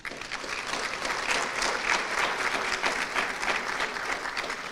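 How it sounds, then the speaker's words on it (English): Steady applause from a luncheon audience at a charity awards event, honouring donors, a dense continuous patter of clapping that stays even and fairly loud for the whole stretch. "Let's give them a round of applause"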